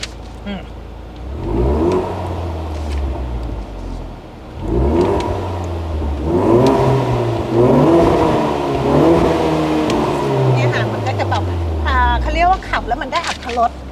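Ford Mustang 2.3L EcoBoost engine with a loud exhaust, revved up repeatedly in rising and falling swells, close and loud, with someone talking over and between the revs.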